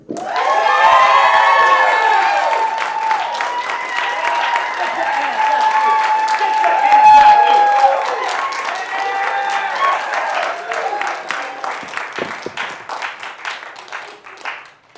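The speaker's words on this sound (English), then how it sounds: "Give a large round of applause to Danny Gardner" Comedy club audience at ACME Comedy Hollywood bursts into sustained applause and cheering with whoops and shouts, loud and dense, tapering off toward the end.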